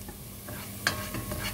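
Onions and spices sauté in a pot for Gulf-style Arabic chicken majboos, giving a soft, steady sizzle with light stirring scrapes and one sharper clink partway through.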